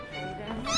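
A small cat meows briefly and close by in a domestic setting, a rising, whiny call that swells toward the end.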